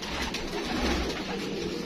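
A Galwa pigeon coos softly in a low, throaty rolling call, heard close against a faint background hiss.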